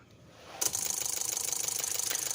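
A 2014 Daihatsu Terios with a crankshaft sensor fault (P0335) is cranked by its starter, a quiet lead-in followed by a loud, rapid rhythmic whirring churn that continues steadily without firing.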